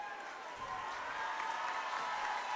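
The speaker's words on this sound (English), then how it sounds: "the crowd gives him a nice round of applause as he's helped off the court" Spectators in a gym at a varsity boys' basketball game, Gunn vs Paly, applaud steadily as an injured player is helped off the court; a broad, even wash of clapping and crowd noise holds for the whole stretch.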